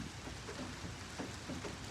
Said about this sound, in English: And it's raining kind of hard, low key.